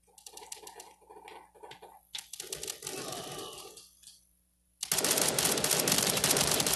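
Rapid automatic gunfire rattles in a mobile multiplayer shooter game: bursts of quick shots, a short silence, then a loud sustained stream of fire.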